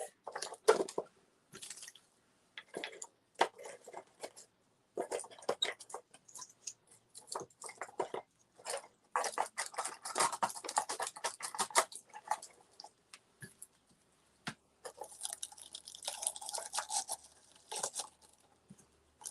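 Natural materials are packed into the holes of a homemade bug hotel, making a string of soft, close rustling, crunching and squishing taps in irregular bursts with brief pauses between.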